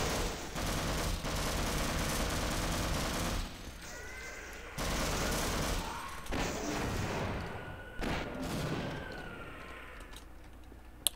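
Rapid, sustained gunfire in Half-Life Source: dense bursts of shots with brief lulls between them, set against tonal game effects and short pitched whines.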